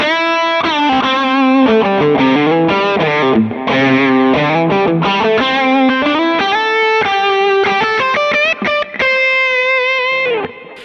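An overdriven electric guitar on its humbucker pickup with a second drive stage plays a fuzzy, thick melodic line with sustained distorted notes and short pauses, loud and upfront.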